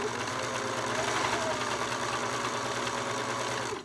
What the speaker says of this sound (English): And I start serging